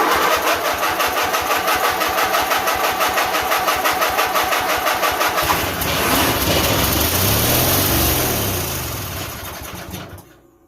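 White GT1855 garden tractor engine with no gas tank fitted, turning over with rapid rhythmic starter chugging, then catching and running roughly before revving and winding down; close and loud, no talk.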